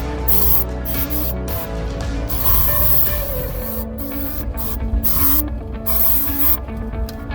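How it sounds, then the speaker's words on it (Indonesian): Aerosol spray hisses inside a car cabin in several bursts, a steady loud hiss broken by short pauses, with no talk. "Kalau bau sih kan tinggal semprot."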